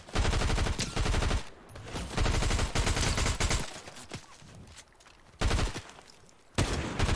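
Bursts of automatic gunfire in a Fortnite duo battle royale match, several loud rapid volleys separated by short pauses, with quieter shots in between and no talking.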